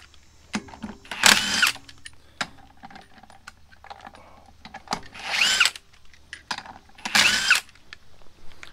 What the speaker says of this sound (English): You can either use a impact like this and just begin